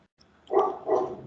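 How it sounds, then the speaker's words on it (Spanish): A small female pet dog barks twice indoors, two short muffled woofs in quick succession, fairly close and at moderate volume. "Déjame guardar mi perrita que está ladrando mucho"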